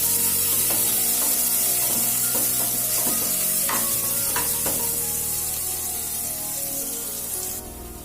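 Chopped onion frying in hot oil for masoor dal, a steady loud sizzle with stirring clinks and scrapes throughout, close and continuous with no talk.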